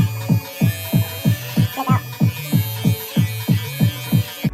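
Electric hair clippers cutting hair during a home self-haircut, a loud close buzzing hum pulsing in a steady rhythm of about ten strokes, with no one speaking.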